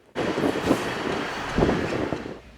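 A train at a railroad museum rumbles past close by, a steady roar starting abruptly and swelling midway with heavy low rumble and bursts of wheel noise, no voices.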